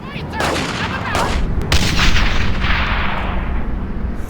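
Gunfire and artillery from the World War II video game Brothers in Arms: Hell's Highway, a loud, dense barrage of overlapping shots and booms throughout, close and continuous.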